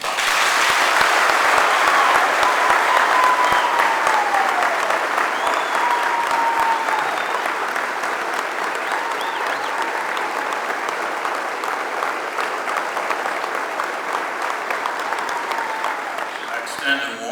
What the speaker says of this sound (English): So I want you to give Axel Al Johnson a huge round of applause.